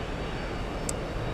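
Steady, faint aircraft engine rumble from airplanes at an airport, a continuous distant drone with no distinct events.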